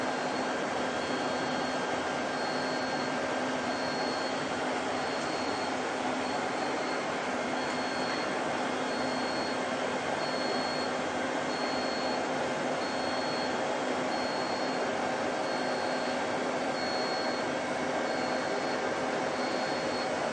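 An HM80 machine runs until it reaches a preset hardness, giving a steady, close, unbroken whirring drone with a faint constant whine and no voices over it.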